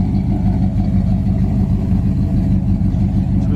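A 1968 Pontiac GTO engine idles steadily with a low, throaty exhaust rumble, close and continuous, with no voices.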